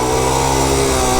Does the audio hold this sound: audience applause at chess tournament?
no